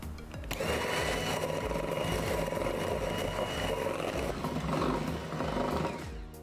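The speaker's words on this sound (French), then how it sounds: "je vais les fouetter au batteur électrique jusqu'à ce qu'ils blanchissent" Electric hand mixer whisking egg yolks, sugar and whole liquid cream in a bowl, a loud continuous whirring buzz with beaters rattling against the bowl, starting abruptly and running steadily for several seconds before easing off at the end.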